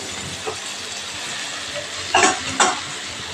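Spices sautéing in hot oil in a pan during home cooking, a steady low sizzle with a few sharper spatters and stirring scrapes near the end.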